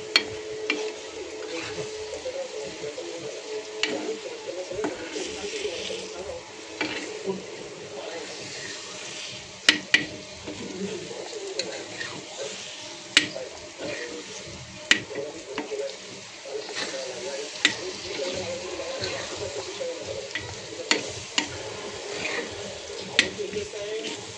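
Eggs frying on a tawa for anda bhurji, a continuous low sizzle broken by regular sharp clacks of a spatula stirring and scraping across the pan, close by.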